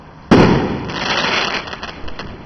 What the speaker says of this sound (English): fireworks going off everywhere